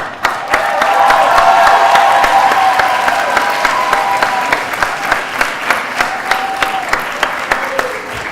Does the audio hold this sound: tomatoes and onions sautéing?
no